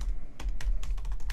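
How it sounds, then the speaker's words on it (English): Quick typing on a low-profile, clicky yet quiet laptop keyboard: a close run of light, crisp key taps in an uneven rhythm over a soft background hum. "But it's nice and sort of clicky, although it is quieter than previous versions apparently."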